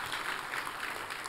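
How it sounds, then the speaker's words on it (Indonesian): Church congregation applauding together during a sermon, a dense, steady wash of clapping held at even loudness throughout with no voices over it. "Kita kasih tepuk tangan yang paling meriah buat Tuhan."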